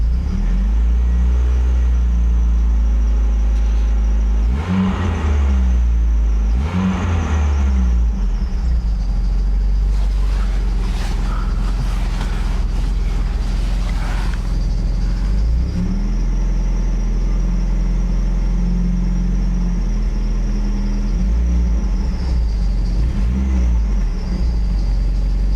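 A car engine running hot and rough, with no cooling fan on yet, idles with a loud low rumble. It is revved twice in quick succession and again later, each rise and fall clearly audible, close to the engine.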